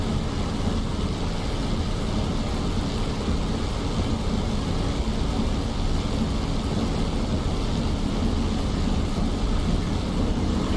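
P-51D Mustang piston engine at takeoff power in the DCS flight simulator, a loud continuous broadband roar that holds steady throughout with no talk over it.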